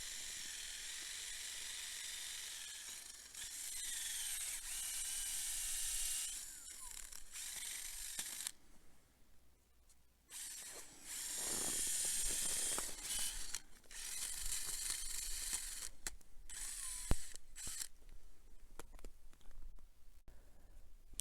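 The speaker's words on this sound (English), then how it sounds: "Just drilled the second hole and it is pretty packed up here" A hole drilled into hard-packed snow on a mountain road in February: a steady ratcheting, grinding mechanical whir with hissy scraping that cuts out briefly partway, then resumes close by and fairly quiet.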